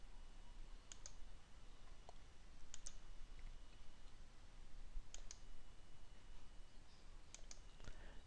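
Computer mouse clicks while a polygon selection is drawn in QGIS mapping software, sparse sharp clicks in loose pairs over a steady low hum.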